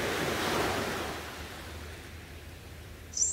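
Gentle ocean waves wash in a steady broadband surge at dawn, a soft continuous rush that slowly eases, with a brief faint high chirp near the end.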